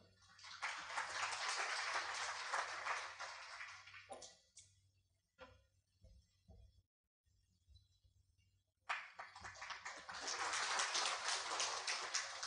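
Audience applause at a university launch event for a correct-Korean program rises for a congratulatory speaker, fades into a quiet gap with a few scattered sounds, then swells again, all heard from a distance.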